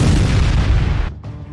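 A heavy boom and rumbling blast from a Hezbollah rocket and artillery bombardment fired from Lebanon at northern Israel, loud and dense throughout, cutting off abruptly near the end before the roar resumes.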